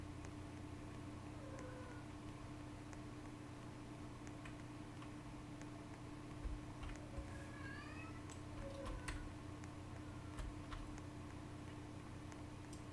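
A small, dramatic pet cat meows a few times in the background, its thin, wavering calls rising over a steady low indoor hum with faint ticking.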